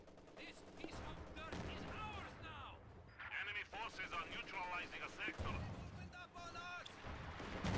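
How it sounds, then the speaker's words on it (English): Infantry support gun firing in Company of Heroes 2 amid a busy battle, with repeated booming shots mixed into gunfire and explosions, all under continuous commentary. "the infantry support gun is actually getting some shots off at this house"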